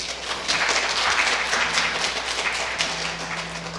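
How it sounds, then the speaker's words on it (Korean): A seated audience at a Korean book talk applauding as a guest is invited onstage, a dense, continuous wash of clapping that swells and holds for several seconds at moderate distance. "여러분 박수 한 번 더 부탁드릴게요."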